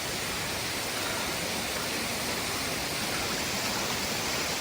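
A constant, loud rush of flowing water fills the whole stretch, an unbroken roar like a stream or small waterfall close at hand, at Raigad Fort.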